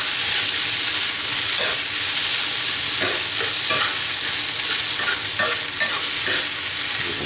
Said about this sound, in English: we're going to stir our potatoes one more time